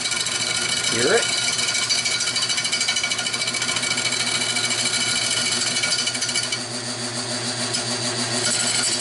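A wood lathe turning a birch bowl gives a steady, loud, rapid chattering drone as the gouge catches a hard spot in the wood, the tone shifting slightly near the end of nine seconds.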